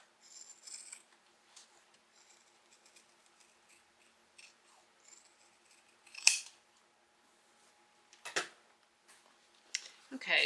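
Scissors trimming the fabric seam allowance around the curves of a crossbody bag, a few soft, sparse snips close by in an otherwise quiet room.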